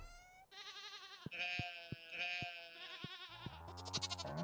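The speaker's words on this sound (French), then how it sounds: "Oh, le bruit des chèvres, ça me régale." Goats in the Stardew Valley farming game bleating in a quick series of wavering, nasal calls, close and clear, with no talk.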